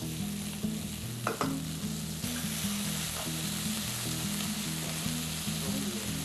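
Beef pieces for stroganoff sizzle steadily as they sauté in a hot pan on the stove, a continuous close frying hiss with a couple of brief stirring clatters.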